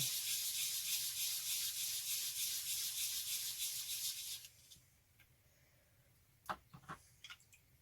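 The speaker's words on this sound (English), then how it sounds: "I might put the sandpaper down and go on it in a circular motion" Wet sandpaper rubs in steady circular strokes over a jesmonite terrazzo candle holder, a dense gritty scrubbing for several seconds that then stops, followed by a few faint taps and handling sounds.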